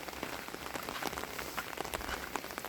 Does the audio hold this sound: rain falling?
yes